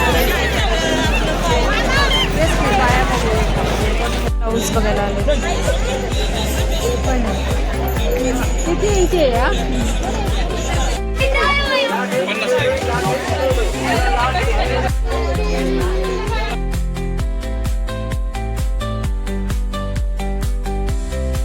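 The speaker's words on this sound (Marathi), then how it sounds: "काय रात्रीची गर्दी." A dense night crowd bustles at the palkhi procession in Lonand, with close chatter and overlapping voices throughout and brief bursts of music and clatter. Nearby people talk over the din.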